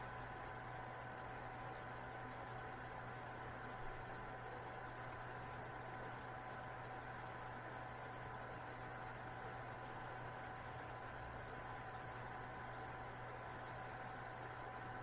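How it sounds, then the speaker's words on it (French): A steady electric motor turning a satellite dish hums continuously at an even pitch, unchanging and moderately quiet, with no other sounds. "Le moteur commence à tourner pour arriver à cette position."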